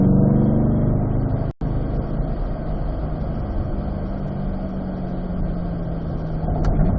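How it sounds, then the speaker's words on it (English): A race car on a track accelerates out of a corner, its engine droning loud and steady with a rising pitch, heard from inside the cockpit; there is a brief dropout partway through. "Back on the gas to accelerate out"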